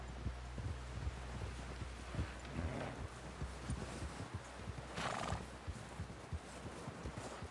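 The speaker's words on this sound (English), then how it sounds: "Someone help John down off this horse." A horse in Red Dead Redemption 2 clip-clops steadily along with a snorting whinny, wind and rustling in the background, no one speaking.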